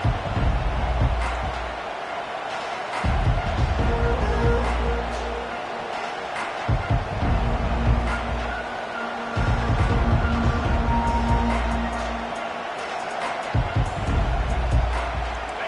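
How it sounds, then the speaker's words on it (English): A stadium crowd in an American college football video game roars steadily throughout, with the Ducks playing as visitors, under continuous play-by-play commentary. "This crowd bringing an ear-splitting welcome to their visitors."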